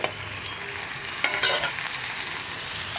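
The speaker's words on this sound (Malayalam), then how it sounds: "ഇനി ഇതിലേക്ക് നമുക്ക് കടല ചേർത്ത് കൊടുക്കാം." Chickpeas, drained of their water, are added to sautéed onions in a pan for kadala curry and stirred, a steady sizzle broken by a few scraping stir strokes around the middle, close and alone.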